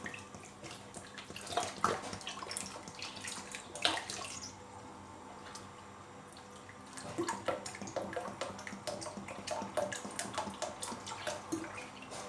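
Water, about 1.5 litres, poured into a homemade lemonade mixture of lemon powder, with splashing and gurgling in bursts near the start and again through the second half, close and moderately loud.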